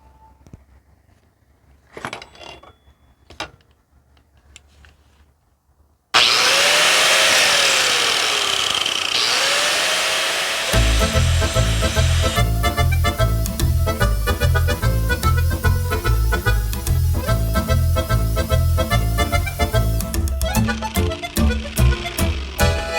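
A power tool sharpens a Toro Recycler lawnmower blade clamped in a vise. After a few seconds of quiet handling, a loud, steady grinding roar starts abruptly and runs continuously to the end.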